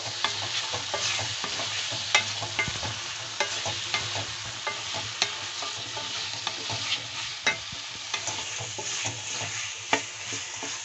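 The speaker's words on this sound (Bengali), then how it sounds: "আলুটা মশলার সঙ্গে একটু ফ্রাই করে নেব।" Cut potatoes fry with a spice masala in a pan for a capsicum dish, a continuous close sizzle with regular spatula scrapes and knocks against the pan throughout, no voices.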